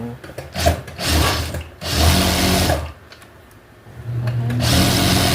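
A sewing machine with a servo motor whirs in bursts, stopping and starting, with a brief pause midway; close and fairly loud.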